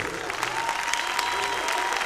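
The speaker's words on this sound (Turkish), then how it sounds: "Ustayı alkışlayın, ne güzel yazmış." A crowd at a Turkish folk music performance applauds the songwriter, a steady wash of clapping from many hands with a voice faintly present beneath it.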